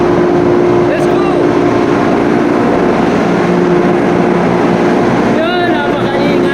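Ship's emergency fire pump running: a loud, continuous engine drone with a steady tonal hum, heard close and unbroken throughout, with faint whistling tones near the end.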